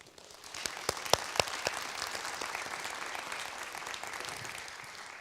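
An audience at a tech talk applauding to welcome a speaker, starting with a few sharp individual claps and swelling into a steady wash of clapping from the crowd.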